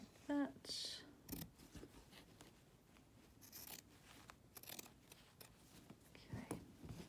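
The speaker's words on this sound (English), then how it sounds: "Just cut it around here." Scissors snip around a thread-painted fabric flower for a brooch, giving a few soft, close, crisp cuts over quiet handling noise.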